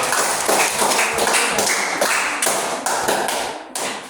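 Primary school classroom applause for a student group, made of short rhythmic bursts of loud clapping close by, each clap group ending abruptly, in a regular chanted-clap pattern with no talk.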